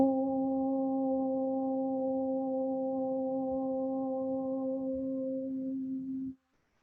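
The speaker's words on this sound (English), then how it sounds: "We open with the sound of Om." A yoga class chanting a single sustained Om together, a steady harmonic drone held for about six seconds at even loudness before it stops.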